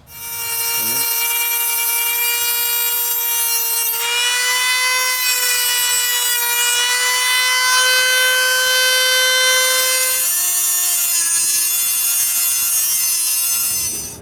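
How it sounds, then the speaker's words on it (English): A Dremel rotary tool with a cutting wheel trims excess nail and screw lengths on an antler chandelier, making a loud sustained high whine that shifts pitch as the wheel bites into the metal. "Now I'm going to get my Dremel tool with the cutting wheel, cut off these extra bits of nail, cut off the excessive lengths of these screws."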